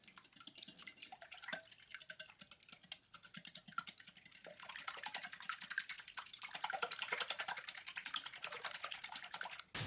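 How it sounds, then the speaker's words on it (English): Rapid, light clicking and tapping of a whisk beating eggs with milk, pepper and salt in a bowl, close and continuous, growing busier toward the end, with no talking. "We're going to whisk that together."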